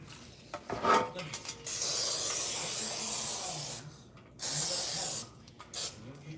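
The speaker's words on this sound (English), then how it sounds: "And just spray your pan." Several hissing bursts of cooking spray onto a 13 by 9 pan, a couple of short puffs then two long, steady sprays close up, with quiet gaps between.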